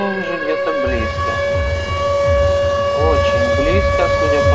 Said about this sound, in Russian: Очень близко, судя по звуку сирены.